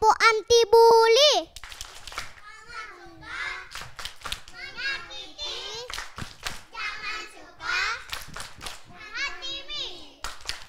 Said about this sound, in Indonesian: sama-sama tepuk anti bully